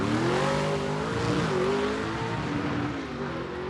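A 1963 Ford Falcon Futura super stock drag car on racing slicks makes a pass down a drag strip, its engine roaring loud and steady as the pitch climbs through the run, with no talking.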